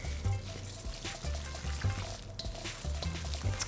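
Wet meatloaf mixture with pepper and seasonings being mixed by hand, a steady squelching, sticky churning with rhythmic pushes, close and fairly loud.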